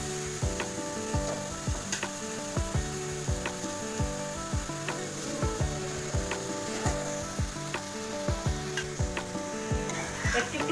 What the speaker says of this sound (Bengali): এবার আমি ভাতটা অ্যাড করে দেবো।